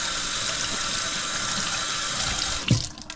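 Tap water runs steadily into a kitchen sink as vegetables are rinsed, a continuous close splashing stream with a brief louder splash and clatter near the end.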